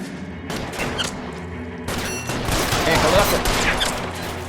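Gunfire in a shootout in the video game L.A. Noire, rapid overlapping shots and bursts building into a dense continuous volley, with a voice speaking briefly.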